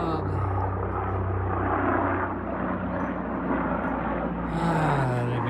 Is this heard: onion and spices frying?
no